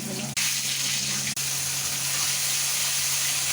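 Bay leaf, dried red chilli, black cumin and white cumin fry in hot oil in a wok, making a loud, steady, hissing sizzle with two brief dropouts and a low hum beneath.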